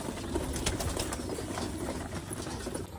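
Pigeons in a pigeon house give a steady bed of soft cooing and rustling wings, close and continuous, with no talk over it.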